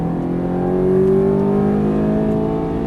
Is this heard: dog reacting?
no